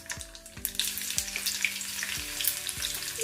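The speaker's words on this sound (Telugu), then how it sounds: "ఇప్పుడు ఇలా 1 టేబుల్ స్పూన్ వరకు దంచుకున్న వెల్లుల్లి తీసుకొని వేసేసుకోవాలి." Crushed garlic drops into hot oil where mustard seeds are already popping, giving a dense, close sizzle with sharp crackles and a few soft thuds, all with no voices.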